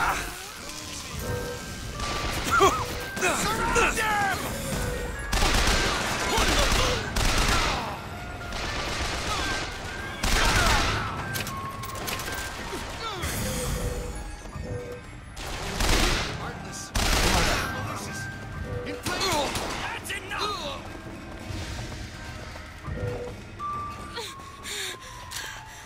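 Gunfire in Bioshock Infinite, repeated bursts of shots with rapid volleys scattered through a chaotic firefight, fairly loud, with breaths and short vocal sounds mixed in.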